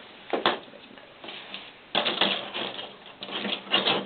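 Crisp snipping and rustling of scissors working through paper, a series of short close cuts in irregular rhythm.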